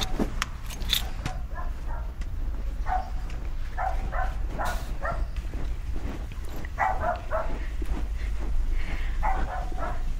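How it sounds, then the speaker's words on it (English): A dog barks in short bursts at a person walking past outdoors, heard at a moderate distance over steady traffic-like background noise. "I wonder if that dog always gets that wrapped up with somebody walking past."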